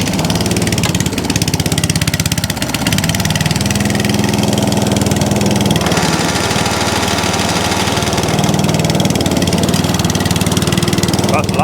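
An Atco Balmoral cylinder lawn mower's small petrol engine runs steadily and loudly at close range on choke, with a constant droning note throughout.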